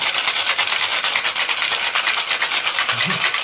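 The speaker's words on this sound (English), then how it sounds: "Right into the microphone so we can hear the shaking there." A cocktail shaken hard in a shaker held close to a microphone, giving a steady, dense rattling and sloshing that runs unbroken and loud for the whole stretch.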